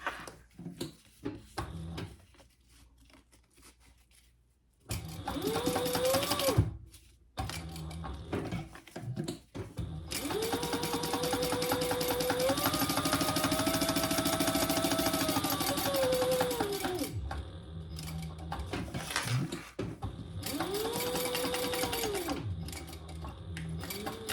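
A sewing machine top-stitches a zipper onto a mini backpack, running in several sustained bursts of steady mechanical whirring with short pauses between them, close and fairly loud, with no talk.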